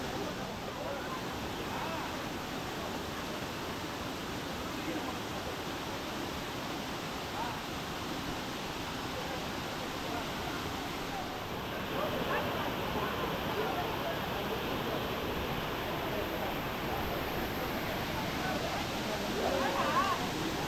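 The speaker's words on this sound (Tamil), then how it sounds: "இதுதாங்க சுருளி அருவி. அருவியில் நீர்வரத்து அருமையாக இருக்குது." Suruli waterfall in Theni district flows with a strong, steady roar of falling water, a constant broadband wash that swells slightly in the latter half.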